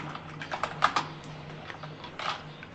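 Computer keyboard keys tapped in short irregular bursts while a git config command is entered, the clicks fairly close and clear over a low steady hum, with no voices.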